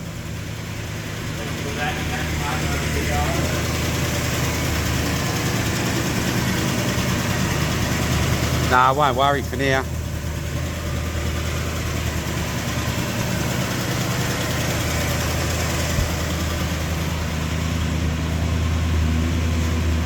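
Holden HZ car engine idling steadily with a deep, even rumble throughout, a brief voice speaking over it partway through and a faint chirping squeal near the middle.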